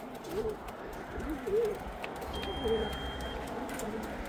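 Racing pigeons coo at a loft in a few soft, rising-and-falling calls spaced across the moment, fairly near, over faint background noise and a thin steady tone.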